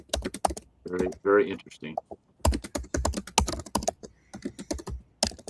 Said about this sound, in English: I'm just messaging Jen real quick. Typing fast.